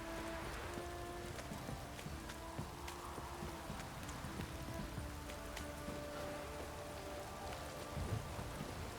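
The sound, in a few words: rain downpour in the video game The Witcher 3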